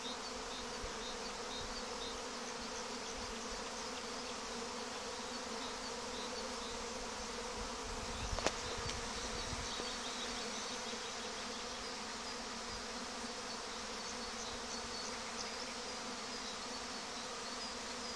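Bees buzz outdoors in a steady, continuous drone that holds at an even level throughout, with one brief louder rustle partway through and no voices.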